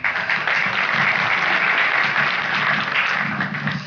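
Audience applause at a variety show in Barcelona, a dense burst of clapping from a crowd that holds steady and loud for several seconds before tapering slightly, with no talking over it.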